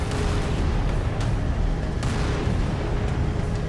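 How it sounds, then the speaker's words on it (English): Fuel rod cannon fire in the Halo 3 video game on The Ark level comes as dense, continuous heavy booming and blast noise, loud and relentless, with a few sharper impacts standing out and no speech over it. "Oh, that's a fuel rod cannon."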